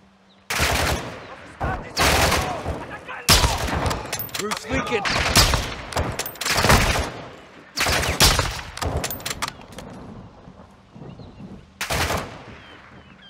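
Call of Duty Modern Warfare 2 gunfire arrives as loud close bursts of automatic fire, several sharp volleys separated by brief pauses, with some voices talking in between.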